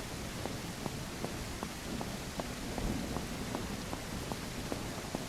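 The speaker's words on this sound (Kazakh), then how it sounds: "Неге осындай жауында?" Steady rain falls as a dense, even hiss, with scattered drops ticking clearly at close range over the continuous wash.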